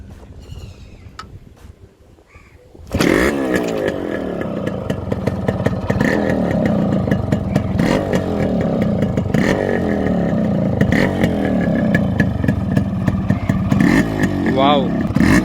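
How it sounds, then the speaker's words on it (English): After a few seconds of quieter sound, a two-stroke Yamaha RX 100 motorcycle engine starts and idles loudly with a crackling, rattling exhaust, blipping the throttle near the end. "let me show the exhaust note of this bike. Let me crank it."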